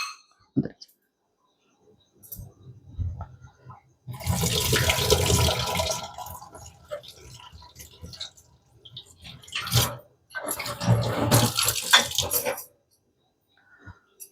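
Two bursts of water splashing and pouring as soaked semolina is rinsed, separated by quieter pauses with small drips and clinks.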